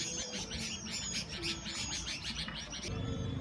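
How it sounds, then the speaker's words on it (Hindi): Birds chirping and tweeting by Bhimtal lake at dusk, a steady chorus of repeated calls over soft background ambience, moderately near, no talk. "चारों तरफ चिड़ियों की चहचहाहट"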